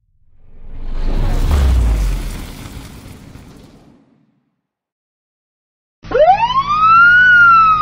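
An ambulance siren in a Spanish radio advert starts abruptly after a rumbling whoosh and a brief silence, its loud electronic wail sweeping upward and holding, close and alone.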